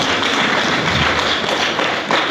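A panel discussion audience claps steadily for a speaker, a dense, even patter of many hands filling the room at full loudness throughout.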